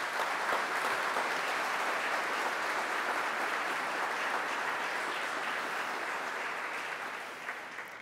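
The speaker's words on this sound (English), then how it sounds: "Applause is coming." Applause fills the chamber at the annual Michigan Senate Memorial Day Service, a sustained, even roar of many hands clapping that holds steady and then tapers off toward the end.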